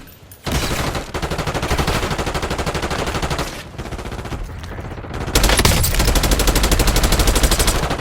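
Sustained automatic gunfire bursts loudly in a Warzone battle-royale match, with rapid rattling volleys that pause briefly and then resume even harder; no talking.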